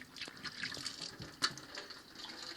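Water trickling from a canister washbasin at a country house, a thin uneven splashing stream with small drips, fairly quiet and close.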